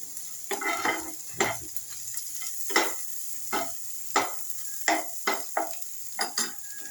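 Onion browning in a pan for vegetable soup, a soft background sizzle broken by a dozen or so irregular stirring scrapes and spatula knocks, close and moderately loud, no voices.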